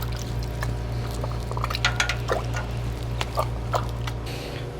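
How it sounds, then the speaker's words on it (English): Water sloshing and pouring as a plaster-casting container is rinsed out, with irregular splashes and drips over a steady low background hum. "we can just rinse this out in the water and make sure it's nice and clean before putting it back in the drawer"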